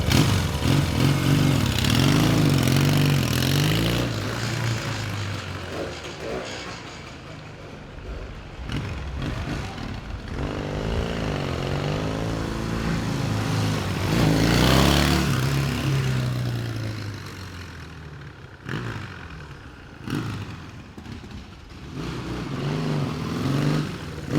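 A 1979 Yamaha XS650 motorcycle engine runs steadily and loudly up close, its throaty exhaust note rising in several revs and settling back to idle.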